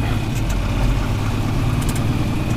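A small pickup truck's engine idles steadily at close range, a continuous low rumble with no change in speed and no talking.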